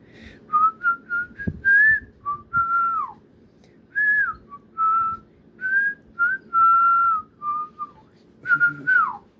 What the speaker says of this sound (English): That was my whistling. I just like whistling.